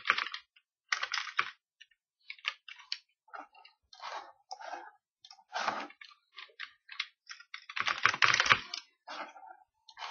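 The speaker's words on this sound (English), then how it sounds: "we're going to type in a song title" Typing on a computer keyboard to enter a song title in DJ software, with bursts of quick, crisp key clicks separated by short pauses, close and alone.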